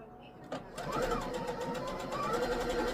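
A sewing machine runs steadily along the pinned edge of a long fabric strip for a dog neckwear scrunchie, starting with a click and then humming on close up, with a voice speaking over it.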